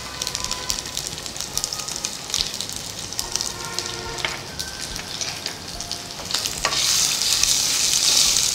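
Ginger paste and asafoetida sizzle steadily in hot oil for a tempering, a continuous crackling fry that swells louder toward the end.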